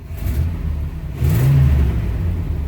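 Car engine revved hard during a vacuum gauge check while diagnosing brakes, a steady mid-low rumble that climbs in pitch and loudness partway through as the throttle opens, close and alone without talk.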